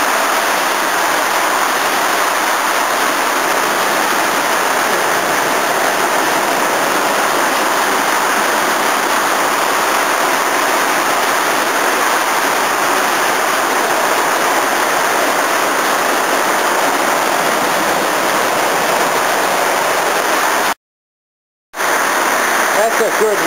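Water pours and gushes steadily from the exhaust of a Toyota Camry, a loud, continuous broadband rush that drops out briefly near the end before resuming.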